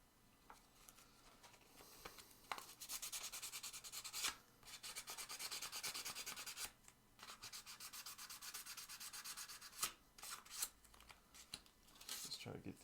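Sandpaper scrubs an object clean in steady back-and-forth strokes. The rasping is fairly quiet and close, broken by short pauses between bursts.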